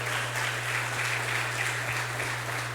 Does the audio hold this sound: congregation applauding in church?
yes